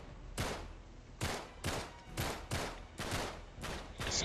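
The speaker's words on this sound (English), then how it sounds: "Shooting out all around these guys and actually hitting them." Rapid bursts of gunfire in the video game Uncharted 3, arriving in about seven loud volleys with brief gaps between them and no talking over them.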